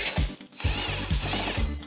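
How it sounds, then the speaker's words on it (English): A drill bit is run through holes in a sheet-metal part for a vehicle electric A/C install, giving short, loud bursts of whirring motor with brief pauses between passes, close up and with no talk. "I might just run a drill bit through some of these holes, make sure they're nice and clean and circular."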